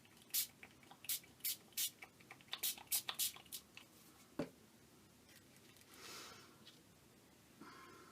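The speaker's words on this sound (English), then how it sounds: "so I guess I gotta spray it again" A spray bottle mists ink onto an art journal page: about a dozen quick, close spritzes in a rapid, uneven series, followed by quieter handling sounds.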